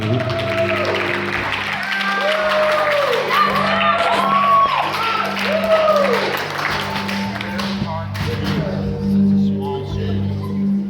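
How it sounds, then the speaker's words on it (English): Audience at a live hypnotist stage show clapping and cheering for the volunteers, a loud steady wave of applause with whoops and shouts running throughout. "how about a round of applause for those people that tried?"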